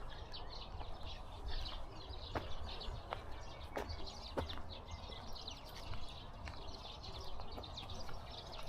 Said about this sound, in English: Sounds like sparrows.